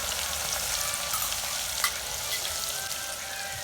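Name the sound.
mustard seeds, cumin, asafoetida, ginger-garlic paste sizzling in hot oil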